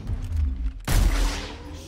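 A single sniper rifle shot in Gears Tactics on Insane difficulty: a loud, sudden crack with a booming tail that decays over a second or more, following a steady background of game ambience.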